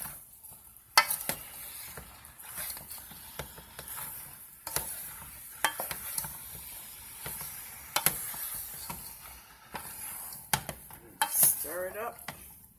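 Potatoes are stirred into an island salmon cook-up in a pot, with a spoon scraping and clinking against the pot over a soft sizzle; the sounds are quiet, close and irregular.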